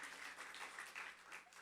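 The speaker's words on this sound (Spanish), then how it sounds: "denle un aplauso más al Señor" A church congregation applauds during a live service, a short, soft wash of clapping that stays steady for a moment with no voices over it.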